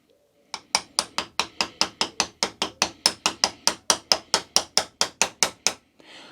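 Hammer repeatedly tapping a socket to seat a Truvativ cartridge bottom bracket bearing cap on a Trek Roscoe 8 bicycle: about twenty crisp, evenly spaced metallic strikes in quick steady rhythm, close and clear, then stopping.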